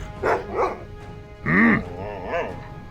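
A dog in the video game World of Warcraft barks in a handful of short, close, clear yaps, two quick ones, then a louder bark and a final yip.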